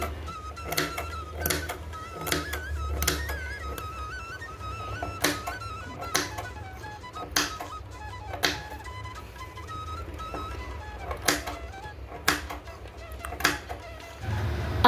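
A home sewing machine stitches piping around a blouse neckline, running in short bursts with sharp repeated thunks and pauses between runs, fairly close and clear.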